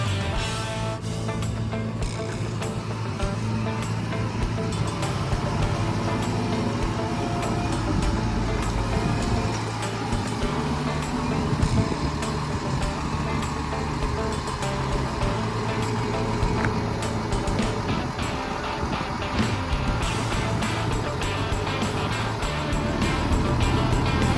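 A tractor engine drones steadily throughout, loud and continuous with a low rumble as the tractor drives along.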